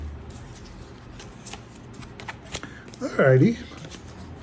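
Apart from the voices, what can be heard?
shuffling tarot cards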